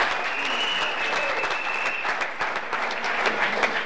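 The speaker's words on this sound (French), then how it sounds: "Applaudissez pour ces parents-là." Audience applauding for parents, a dense, steady clapping from a sizable crowd that holds for several seconds, with faint voices underneath.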